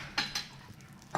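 Squash pieces with meat go into a frying pan, giving a few brief clinks and soft placement sounds, faint and quiet with little else around.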